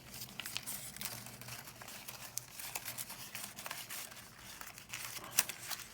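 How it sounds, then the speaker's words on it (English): Sheets of paper being folded for a kirigami star, soft continuous crinkling and rustling close up, steady and fairly quiet with no talking. "Now I'm going to fold this."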